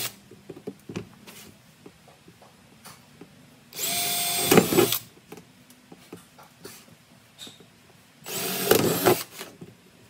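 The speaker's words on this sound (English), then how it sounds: "So first I'm just gonna drill those pilot holes." Power drill boring pilot holes into wooden boards for a DIY mouse-proof root vegetable storage box, heard as two loud whirring bursts of about a second each, separated by quieter handling noise.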